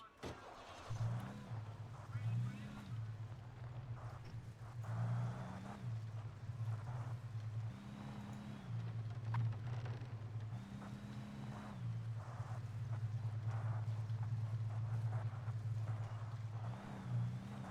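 Engine of a car driven in the video game Alan Wake, a steady low drone with repeated rising and falling revs, close and continuous, with small bumps and wind-like noise over it.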